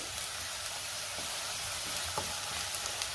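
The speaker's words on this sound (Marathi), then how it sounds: "आलं लसणाचा कच्चा वास जाईपर्यंत आपल्याला ही पेस्ट परतून घ्यायची तेलामध्ये" Ginger garlic paste sizzles as it is fried in oil for a paneer masala, a steady close crackling hiss with faint stirring clicks throughout.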